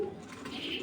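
A racing pigeon gives a brief, soft coo up close in a quiet room, one low throaty call lasting under a second.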